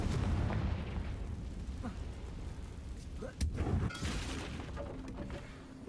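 A Confringo blasting spell goes off in Hogwarts Legacy, a sudden sharp burst around the middle followed by a rumbling boom, set against steady game background noise.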